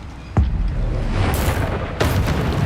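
Two booming Bombarda spell explosions in a Hogwarts video game, heavy and close, the first sharp thud early and a second louder blast near the end over a rumbling background.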